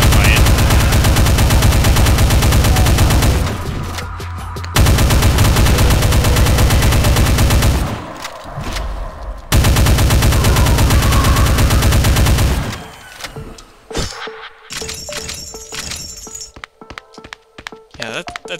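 The chain gun firing in Doom 2: long, loud, dense streams of rapid shots in three sustained bursts with short gaps, then scattered impacts and thuds, while someone talks over part of it.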